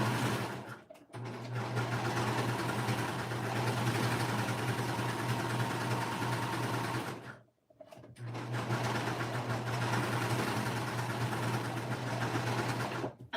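A sewing machine runs steadily, stitching fabric for a child's Ellie & Mac Staycation peplum top, its loud continuous hum breaking off for a brief pause midway before starting up again, with no talking.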